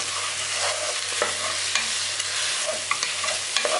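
Steady sizzle of food being stir-fried in a pan for a cow trotters dish, with light scraping stirs clicking through the close, continuous frying hiss.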